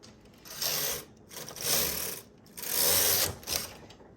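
A knitting machine carriage slides across the needle bed in four rhythmic passes, each a whirring, ratcheting mechanical sweep separated by brief pauses, close and clear with no voices.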